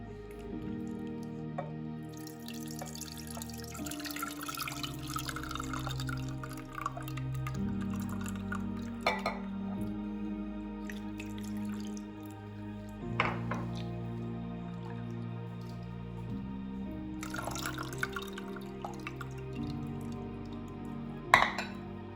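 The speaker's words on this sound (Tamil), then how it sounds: "புளி வடிகட்டி எடுத்துக்கலாம்" Tamarind water is strained into a clay pot for fish curry, with dripping, trickling liquid and occasional clinks of utensils against the pot, close and moderately loud, with no talking.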